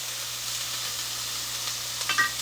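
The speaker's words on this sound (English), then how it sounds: "Did you hear that sizzle?" Steady sizzling and crackling of sofrito frying in hot olive oil, close and continuous, with a few brighter pops near the end.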